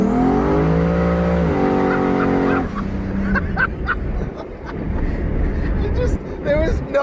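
A 1000 HP turbo Trans Am spins its tires with no traction at half throttle on the lowest boost setting, a loud rising engine drone with harmonics giving way to rough, broadband tire roar and squeal.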